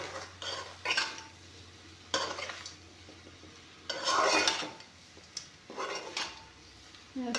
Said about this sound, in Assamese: এতিয়া এইখিনি অলপমান ভাজি ল'ম